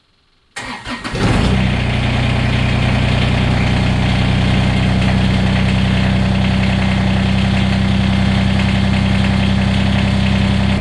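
A Kubota BX compact tractor's diesel engine cranks briefly, catches and settles into a loud, steady idle that runs without a break for about ten seconds, with no talking.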